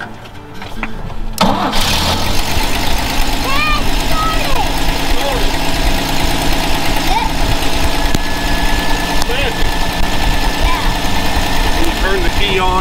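A car engine is started with the key and some gas, cranking briefly before catching and settling into a steady, loud idle; a child and an adult talk over the running motor.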